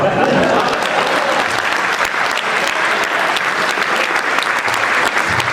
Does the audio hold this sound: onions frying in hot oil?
no